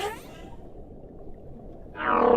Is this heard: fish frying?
no